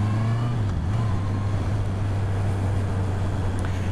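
A motorcycle engine pulls under acceleration while riding, a steady loud low drone with a rising and dipping tone under constant wind rush close to the mic.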